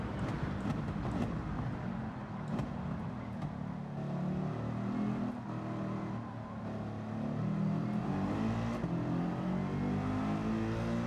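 A Gran Turismo 7 race car howls at flat-out speed on the Nürburgring Nordschleife, a steady, sustained engine drone with tones shifting slightly under load, continuous and fairly quiet, no talk.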